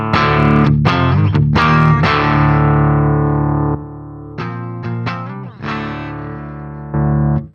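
An instrument played through a Boss Waza Tube Amp Expander with a rack 160D compressor gives loud, sustained distorted chords and notes. They come in bursts with short gaps and ring out between phrases.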